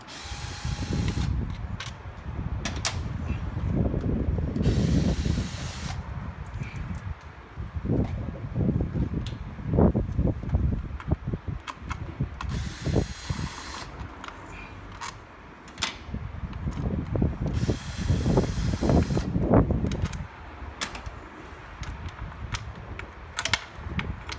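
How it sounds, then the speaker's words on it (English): A cordless 3/8 drill loosens the valve cover bolts on a Toyota engine. Repeated short mechanical whirring bursts, close and fairly loud, are separated by pauses and ratcheting clatter. "I'm going to use a 3/8 drill to loosen the bolts because it's much easier and faster."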